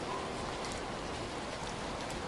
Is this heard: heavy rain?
yes